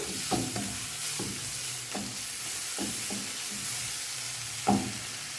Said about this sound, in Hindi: फिर से इसको मिक्स करते हैं अच्छे से।